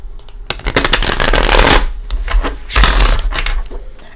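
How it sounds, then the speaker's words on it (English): Tarot cards being shuffled by hand for a psychic reading, a dense run of quick riffling flutters and soft slaps with two louder bursts, close and alone. "let's go ahead and give them another shuffle"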